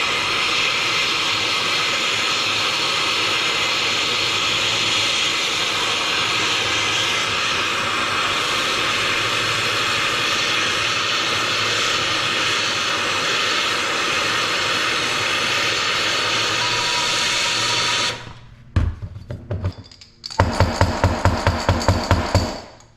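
A torch heats the aluminum housing to free a stuck bearing on a 1991 Kawasaki KX250 dirt bike, a loud steady roaring hiss that cuts out, followed by a series of sharp metallic hammer taps.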